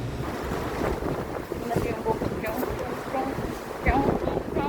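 Gusty wind buffets the microphone with a low rumbling roar, and faint voices come and go beneath it.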